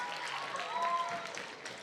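A school audience applauds students at a seventh-grade awards ceremony: a dense, steady wash of clapping and crowd noise that holds for about two seconds.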